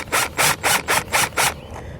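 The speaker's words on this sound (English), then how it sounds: "We're just going to drill right out through it." A power drill bores through the aluminum box of a Solera slide-out awning on a Keystone Cougar XLite fifth-wheel RV, in six rhythmic grinding bursts, close and loud, before dropping to a quieter hum.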